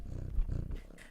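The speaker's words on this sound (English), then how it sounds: "Hello, cat." A cat in the video game OFF gives a low, rumbling purr, close and fairly soft, that swells briefly and then fades, with no speech.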